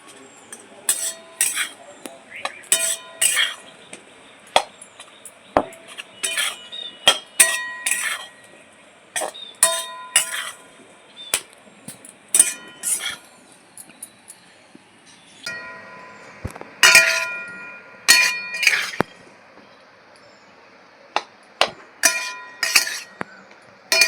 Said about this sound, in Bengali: দু থেকে তিন মিনিটের জন্য আমি একটু নেড়ে নেব কড়াইয়ের মধ্যে